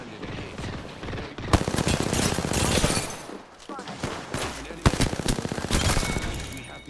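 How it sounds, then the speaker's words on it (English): Rapid bursts of automatic gunfire from smart bullets in the video game Apex Legends, dense rattling volleys with sharp louder cracks, pausing briefly between salvos, loud and close. "Smart bullets, hunting. Smart bullet landed."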